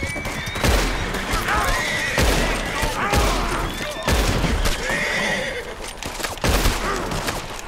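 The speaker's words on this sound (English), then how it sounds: "I just shot your horse" Gunfire and a horse's whinny in Red Dead Redemption 2: sharp repeated shots, several in rapid bursts, alongside loud neighing and hoof clip-clops, close and prominent.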